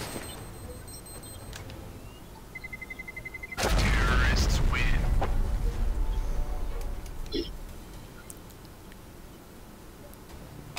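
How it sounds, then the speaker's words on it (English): A bomb detonates in a Counter-Strike: Global Offensive match, a sudden loud booming blast with a rolling tail that dies away over several seconds, preceded by quieter ticking game sounds. "You die in the explosion."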